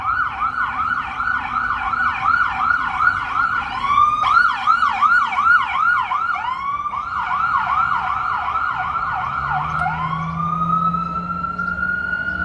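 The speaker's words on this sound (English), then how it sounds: "that's an ambulance right there." An ambulance siren wails on a street in Brooklyn's Bay Ridge neighborhood, its rising-and-falling sweeps loud and steady for several seconds before changing pattern and sliding into a long steady tone, with low road traffic rumbling underneath.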